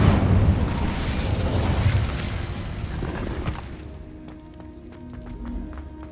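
A fiery Incendio spell blast from the Hogwarts Legacy video game erupts in a loud, roaring burst that rumbles for several seconds. It then thins into a fading crackle with scattered light pops.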